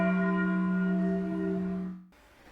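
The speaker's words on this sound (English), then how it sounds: "Luckily for her, the bell rang." A single school bell rings with a sustained, tonal metallic note that holds steadily before fading and cutting off abruptly, heard alone.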